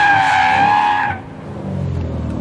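A tuned Subaru STI making 500 wheel horsepower revs hard with a loud, rising engine whine and tire squeal for about a second, then drops to a lower rumbling drone as it pulls away.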